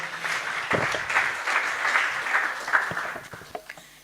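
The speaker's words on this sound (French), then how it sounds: "Je vous prie d'applaudir bien fort, s'il vous plaît" Applause from an audience at a Saturday question-and-answer gathering, a steady burst of clapping over about four seconds with a few sharper individual claps standing out near the end.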